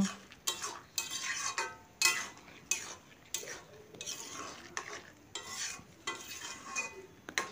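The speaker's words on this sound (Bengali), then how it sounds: "কাঁচা সর্ষের তেল আমি এখানে 4 চামচের মতন দিয়ে দিলাম, দিয়ে আবারও মিশিয়ে আমি ঢেকে রেখে দেব।" A spoon stirs raw mustard oil into poppy-seed greens in a pot, about a dozen rhythmic scraping strokes against the metal, close and fairly quiet with no talk.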